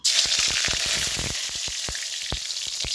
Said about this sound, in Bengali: গরম হয়ে গেছে অলরেডি। আমি তেজপাতাটা ছেড়ে দেবো আগে